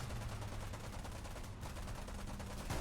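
Continuous machine gun fire from a de Havilland Mosquito FB Mk VI in a WWII flight game, a dense rapid rattle sustained at steady loudness for nearly three seconds, with no voices.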